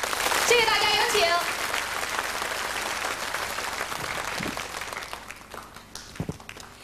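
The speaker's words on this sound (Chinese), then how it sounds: "让我们一起用掌声请出她跟大家见面" A live audience at a Chinese TV song gala applauds to welcome a Miao girl onto the stage. The clapping is dense and sustained, with a voice briefly over it, then it thins and fades near the end.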